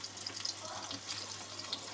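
Minced beef patties fry in a pan during pasta bolognese cooking, giving a quiet, steady sizzling hiss with light crackles and no voices.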